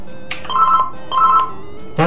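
A telephone rings in two clear electronic bursts about half a second apart, fairly close and moderately loud, with a sharp noise at the end.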